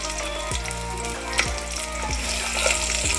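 Onion pieces fry in oil for masala bhindi, giving a constant crackling sizzle with a few soft clinks and sweeping tones recurring over it at a steady level.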